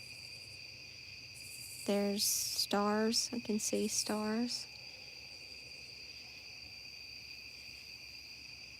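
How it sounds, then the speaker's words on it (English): Crickets chirp at night in a steady, high, continuous drone that runs through the whole stretch, while a person speaks calmly for a few seconds over it. "There's the sound of crickets."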